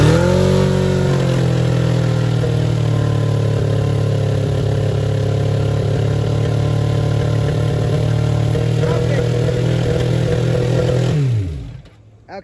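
1992 Suzuki Katana 750 GSX750F motorcycle engine, warmed up and started without choke, running at a loud, high, steady rev for about eleven seconds before cutting off abruptly.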